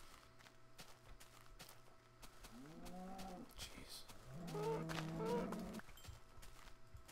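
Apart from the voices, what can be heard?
cows mooing in a video game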